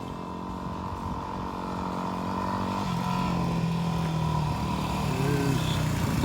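Several motorcycles approach on a dirt road along Old Ore Road in Big Bend, a steady engine drone that builds and shifts pitch as the bikes draw nearer, loud and continuous, with faint talk underneath.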